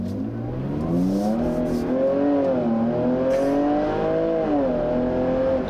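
Jaguar F-Pace S engine revving hard while driving, a loud continuous growl rising and falling in pitch with throttle changes, close and steady with no talking.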